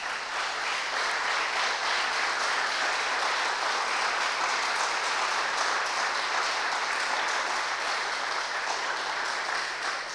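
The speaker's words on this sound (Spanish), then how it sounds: "¿Quién puede dar un aplauso al Señor?" A church congregation applauds the Lord in a sustained, even roar of many hands lasting about ten seconds, loud and full with no speech over it.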